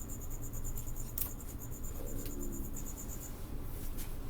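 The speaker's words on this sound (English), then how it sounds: "God damn, the crickets annoy you." Crickets chirp steadily in a continuous faint background drone, with no talk.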